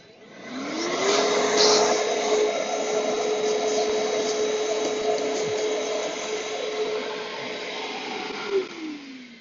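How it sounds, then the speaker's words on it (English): A cordless vacuum cleaner runs steadily and loud for several seconds while cleaning around an outdoor dryer vent, its motor whine starting up at the beginning and winding down at the end. "I'm going to just use the vacuum to kind of clean up this area."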